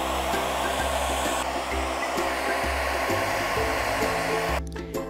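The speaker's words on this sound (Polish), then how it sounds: "I klej znowu suszymy suszarką." A hair dryer blows steadily on glue coating a decorated cup, a loud close whooshing drone with shifting motor tones that stops abruptly near the end.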